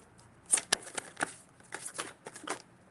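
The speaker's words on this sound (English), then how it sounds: "We'll just keep shuffling." Tarot cards being shuffled by hand during a reading: several short, crisp riffling bursts and taps, close and fairly quiet, spaced irregularly across a few seconds.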